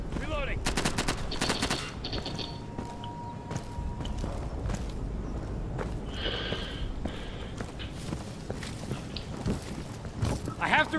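A friendly player's SAW machine gun fires in the shooter Insurgency, with rapid bursts of automatic fire near the start and scattered shots continuing amid ongoing battle noise and clatter.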